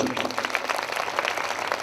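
A church congregation claps together at a worship service, a short burst of steady, even applause filling the room at moderate loudness.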